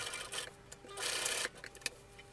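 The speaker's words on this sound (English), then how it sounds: "Remember to start the sewing." A sewing machine stitches a homemade bed cushion in short quiet bursts, with a longer run in the middle and a few brief clicks, heard close and alone.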